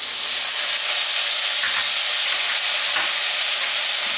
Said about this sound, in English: To that, I'm going to add some light soy sauce.